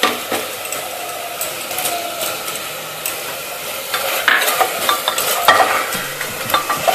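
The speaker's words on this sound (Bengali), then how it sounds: "চিকেনটা কিন্তু কষা হচ্ছে" Chicken being sautéed with ginger paste in a pan for a chicken stew, giving a steady close sizzle with scraping stir strokes and occasional utensil clinks against the pan.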